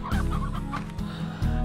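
Chickens cluck in the video game Slime Rancher, a quick run of close, lively clucks and squawks over a low game hum, with no talking.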